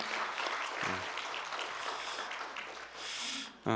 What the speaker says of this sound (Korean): 우리 한번 박수로 또 환영하겠습니다.